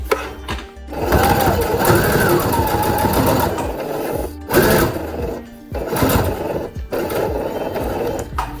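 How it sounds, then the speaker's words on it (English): A sewing machine stitches darts on a boat-neck full circle dress, running loud and close in several rapid stretches broken by brief pauses. "Now I am going to stitch the darts first."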